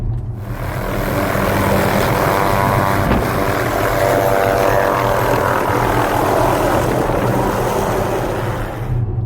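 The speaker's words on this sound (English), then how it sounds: "Cut to JB taking off in his helicopter" A steady, loud roar of rotor and engine noise fills the whole stretch, dense and unbroken, like a helicopter powering up close by.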